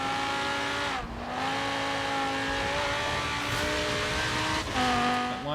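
Car engine in the racing game Forza Horizon 3 revs and shifts gears, with tire squeal and continuous high-pitched engine tone throughout, loud and steady with no talking.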